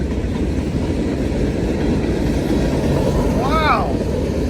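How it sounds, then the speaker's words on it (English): A CSX slug locomotive train rolling past on rails, a loud steady rumble with rail noise throughout and a brief high squeal near the end. "it's like a small little tiny locomotive or something"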